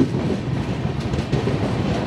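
Bagyanagar Express, a train of LHB coaches, running through Cherlapalli station on platform 3 without stopping, heard from on board as a steady, close rumble with rhythmic clickety-clack of wheels over rail joints.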